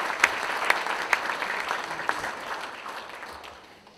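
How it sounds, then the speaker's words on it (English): A small group claps for a few seconds at a youth sports volunteers recognition breakfast, the applause thinning and fading out toward the end. "a round of applause should go to all the parents that are here"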